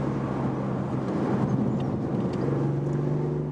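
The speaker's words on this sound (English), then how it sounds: "Engine roar, which is again boosted by the speakers there." A BMW i8 Roadster in sport mode gives a steady engine drone, its roar reinforced through the cabin speakers, heard from inside at moderate level without talking.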